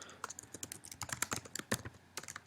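Rapid keystrokes on a computer keyboard, uneven bursts of clicky taps close up and fairly quiet, with short pauses between runs of typing and no voices.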